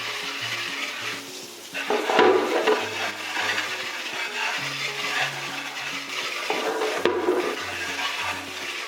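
Old LG stand air conditioner parts, mouldy inside, get rinsed with a light water spray gun, a continuous hissing splash over background music, rising in bursts as the spray moves across the surfaces.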